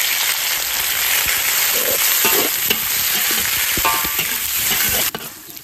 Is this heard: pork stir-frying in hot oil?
yes